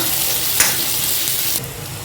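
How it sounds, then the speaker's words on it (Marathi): Onions fry in a pan with mustard seeds and cumin, a steady, close sizzle that runs the whole time, with a brief sharper crackle near the start and a slight drop in intensity toward the end. "राई मोहरी जिरे कांदा कांदा थोडं शिजून घेते थोडंसं फ्राय करून घेते"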